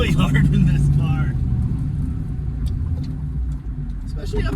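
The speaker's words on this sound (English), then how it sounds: "taking off in gravel is really hard in this car" A 1971 Dodge Challenger with a swapped-in 392 engine pulls away on gravel with a deep, rumbling engine note that strains and then settles. A voice can be heard faintly over the low drone.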